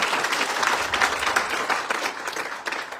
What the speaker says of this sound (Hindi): ये सुनो, ओझा जी की एक बार जोरदार तालियां चाहूंगा।